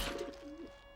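Doves coo in a short animated scene, a single soft, low, throaty note lasting about a second, faint and close with nothing else over it.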